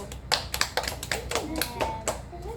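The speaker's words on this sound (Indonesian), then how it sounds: "Tepuk tangan dulu." Children in a group counseling session clap together in short bursts close by, with a voice and talk running through the clapping.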